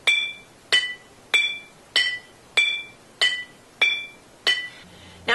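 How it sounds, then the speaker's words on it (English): Glass bottles arranged as a homemade xylophone, struck one at a time in a slow, even series of bright ringing clinks with short decays, close and alone. "This is what a Snapple bottle xylophone might sound like."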